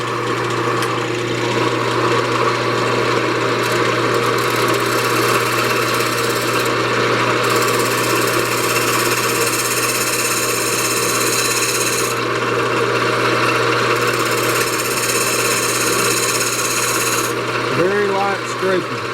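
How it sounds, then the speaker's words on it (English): A bowl gouge lightly scrapes a spalted pecan vase spinning on a woodturning lathe, giving a steady close rasping hiss over the lathe's constant motor hum, with a voice briefly near the end. "I'm going to use my bowl gouge. Just kind of scraping that."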